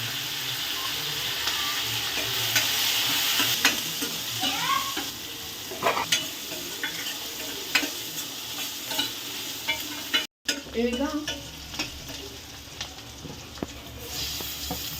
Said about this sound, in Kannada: ಈರುಳ್ಳಿ ಚೆನ್ನಾಗಿ ಫ್ರೈ ಆಗಿದೆ. ಈಗ ಉಪ್ಪು ಹಾಕಿ ಚೆನ್ನಾಗಿ ಫ್ರೈ ಮಾಡ್ತಿದ್ದಾರೆ.